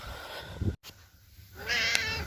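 A domestic cat meows loudly near the end, a rising, drawn-out call following a quieter stretch of indoor household noise and a brief thump.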